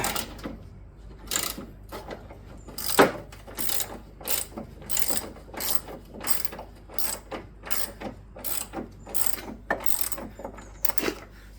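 A ratchet undoes a 15 mm nylon nut on a Tesla Model 3 front damper, giving quick, close, repeated clicking strokes throughout.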